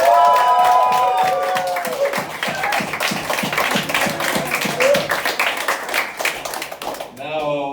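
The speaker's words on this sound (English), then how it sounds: "Give me a round of applause, everyone." Audience clapping and cheering at a comedy roast battle, a steady crowd applause running throughout with whoops and voices mixed in over the clapping.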